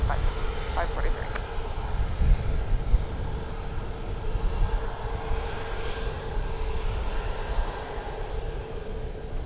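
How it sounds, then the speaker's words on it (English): An Alaska Airlines Boeing 737 MAX 9 jet departing for Seattle, its engines producing a steady, broad roar that holds at even strength throughout, heard outdoors from an airport spotting position. "Got an Alaska Airlines flight going out there to Seattle on a MAX 9."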